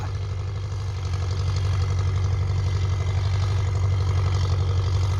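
A Ford 6600 farm tractor sits idling close up, its loud exhaust producing a constant low, chugging drone that holds steady throughout with no other sounds.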